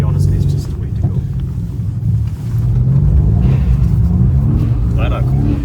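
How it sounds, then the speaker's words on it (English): A Mercedes C63 AMG V8 engine rumbles loudly with a deep, steady low-end drone, heard from inside or near the car, with a voice speaking over it. "Everybody knows it's a V8, it sounds nice"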